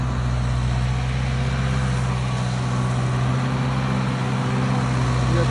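A skid steer runs nearby while spreading gravel at a cabin, its engine putting out a steady, loud, low diesel rumble that carries through the whole span without a pause.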